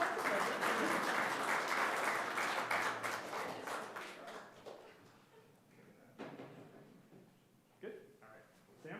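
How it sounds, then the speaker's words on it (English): Audience members at a city council meeting in St Catharines clap for several seconds; the applause fades out, leaving scattered claps, room noise and a voice talking. "Round of applause."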